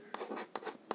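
Chalk or pen scratches across a surface during a math lesson, three quick, faint strokes in a loose rhythm heard up close in a quiet room.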